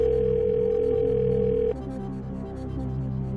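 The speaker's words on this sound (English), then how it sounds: "let's get Doak on the line" A telephone dial tone plays for a call on a US quiz show, a steady loud tone that cuts off about halfway, leaving a dense electronic music bed.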